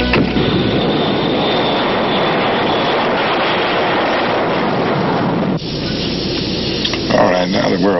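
Loud, steady roar of a White House jet aircraft, a constant broadband rumble that carries through the whole stretch before easing slightly, with faint fluttering near the end.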